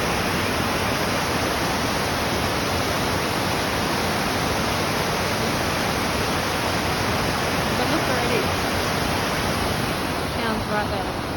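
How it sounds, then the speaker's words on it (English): Raging waterfall at Bad Gastein in January, a loud, steady, dense roar of rushing water that fills the scene without letup, with faint speech barely audible beneath it. "And it's raging."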